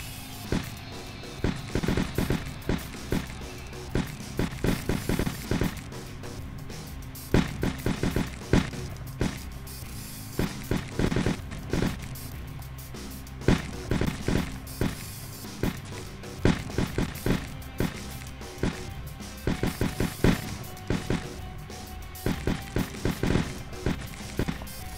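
Three shotgun turrets in a zombie defense game fire repeatedly at advancing zombies, sharp blasts coming in irregular clusters of quick shots with short gaps, moderately loud against a soft game background.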